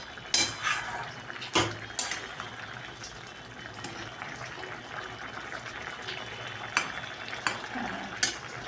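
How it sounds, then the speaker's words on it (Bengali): Spoon scraping and clinking in a pan while egg curry (dim chorchori) is stirred and mixed, with soft bubbling underneath and several sharp metallic knocks spread irregularly through the stretch, close by and fairly quiet. "এখন এইটাকে ভালো করে নেড়ে মিশিয়ে দিতে হবে খুব ভালোভাবে।"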